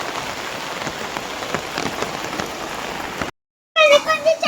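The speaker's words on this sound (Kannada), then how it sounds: "ಮಳೆ ಬರ್ತಾ ಉಂಟು ಇಲ್ಲಿ ಜೋರು" Heavy rain pours steadily onto a surface as a loud, dense hiss for a few seconds. It cuts off abruptly, and then a voice speaks nearby.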